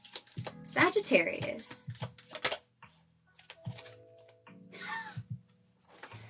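Tarot cards being shuffled during a live weekly tarot reading come as brisk, papery clicking riffles in short bursts, mixed in and around a person talking close to the microphone.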